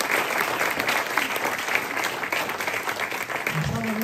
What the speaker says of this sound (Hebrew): מחיאות כפיים גדולות לך,